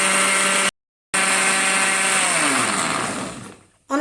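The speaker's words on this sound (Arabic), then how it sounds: "هبدأ أضرب المكونات دي كلها إيه في الخلاط كده مع بعض." A kitchen blender whirs loudly while mixing cake batter, cutting out for a moment and then resuming before winding down and slowing to a stop.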